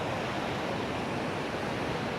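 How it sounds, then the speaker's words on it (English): Floodwater from the swollen Ping River in Chiang Mai, high after Storm Mulan, rushes through an open weir as a steady, dense roar that fills the whole clip with no voices. "the water's coming through"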